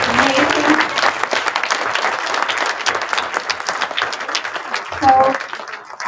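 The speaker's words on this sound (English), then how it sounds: "Can we have a round of applause?" A round of applause from a gallery audience at the end of an artist talk, loud and sustained with a few voices mixed in, tapering toward the end.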